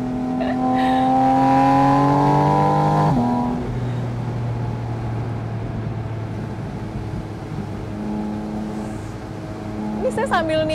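A Porsche 718 Spyder RS engine cornering in fourth gear at about 5000 rpm holds a loud, droning note that rises, dips at a shift, then carries on steady, heard from inside the car.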